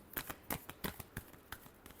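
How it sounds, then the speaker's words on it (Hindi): Tarot cards are shuffled in quick riffling bursts of crisp flicks, close and quiet, with no talking over them. "Last shuffle."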